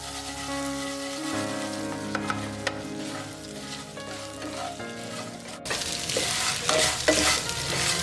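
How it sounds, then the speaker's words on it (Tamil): Steamed mani kozhukattai rice-flour dumplings are stirred in a sizzling pan, a steady close scraping and frying hiss throughout, growing a little louder near the end. "இப்போ நம்ம வேக வச்ச இந்த மணி கொழுக்கட்டையை இதை நம்ம ஆட் பண்ணிடலாம். ஆட் பண்ணிவிட்டு இதை நல்லா மிக்ஸ் பண்ணி விடுங்க."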